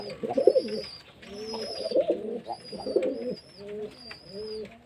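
Pigeons cooing steadily nearby in hot weather as they drink and eat, with repeated soft, throaty coos in a rhythmic series and faint higher chirps.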